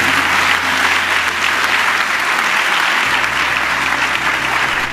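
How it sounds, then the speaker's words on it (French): Loud, sustained applause fills a hall as an audience claps for Aliko Dangote, a thick, even wash of clapping throughout with no talk. "Merci beaucoup, Aliko. Applaudissez-le,"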